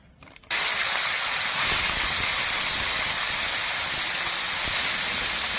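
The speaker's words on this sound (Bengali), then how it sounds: "এবার আলুটা ভেজে নেব।" Potatoes hit hot oil with a sudden loud burst after a quiet start, then fry in a strong, even roaring hiss that stays close and constant throughout.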